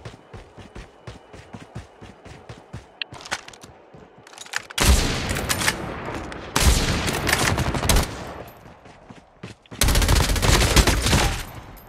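Gunfire in the mobile shooter CoD Mobile during a battle royale match: rapid trains of single shots in the first seconds, then three loud, dense bursts of automatic fire with booms, close and dominating, with no talking.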